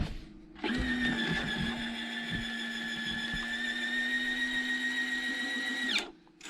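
Electric retractable landing gear on a Seagull Model 87-inch F4U Corsair model airplane retracting with a steady high-pitched motor whine lasting about five seconds, close up and alone, starting and stopping cleanly.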